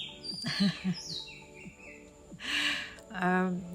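Bright bird chirps and short calls outside a window scattered across a few seconds, mixed with some low murmuring sounds, fairly close and busy.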